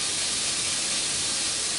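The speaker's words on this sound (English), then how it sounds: "I'm just about to spray it with the" An airbrush sprays flat sealer onto a weathered HO scale CN 9637 model train car, giving a steady close hiss with no pauses, alone.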